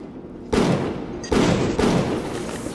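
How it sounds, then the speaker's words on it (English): Three loud, close gunshots in the game Bioshock, each a sharp blast with a short rumbling decay, spaced unevenly over a few seconds against a quiet background. "Do you think we can get a headshot on this guy?"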